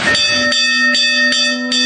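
Metal temple bell at a small Brahmin household shrine in India, struck repeatedly in a steady rhythm, each strike ringing with long bright sustained overtones, loud and close with no talk.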